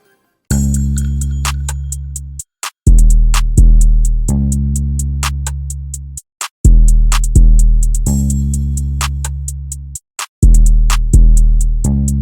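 A full chill beat drum pattern built in FL Studio: crisp hi-hat and snare hits ride over booming sustained bass and 808 notes, looping in a steady, loud, clean groove with no voices.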